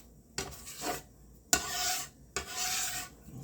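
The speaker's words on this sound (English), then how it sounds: "and just rub it all around the grill" A spatula spreads oil across a long-seasoned pancake grill, three separate rasping scrapes, each starting with a sharp onset and trailing into a rubbing smear.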